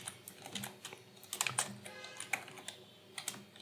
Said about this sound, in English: Loud typing sounds.